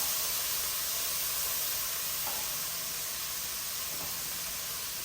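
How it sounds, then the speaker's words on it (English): Tomatoes, garlic and onions sizzling in a pan of hot grapeseed oil, a steady, even hiss that fills the whole stretch without pause or talk. "Get that sizzling."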